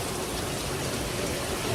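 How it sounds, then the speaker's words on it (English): Torrential rain pours down in Osaka or Kobe, Japan, a dense, steady roar of downpour with no pause throughout. "yeah, it's a torrential downpour."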